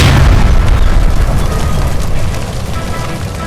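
Loud gas line explosion in the video game L.A. Noire, a heavy booming blast with a deep rumbling tail that fades slowly over a few seconds, no voices.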